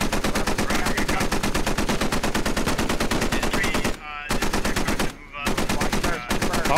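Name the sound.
gunfire in video game Squad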